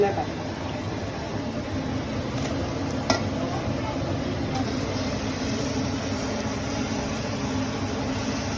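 Spice masala sizzles steadily in hot tempering oil for Malvani chicken, a continuous close hiss and crackle with a faint stirring scrape, lasting the whole stretch without pause.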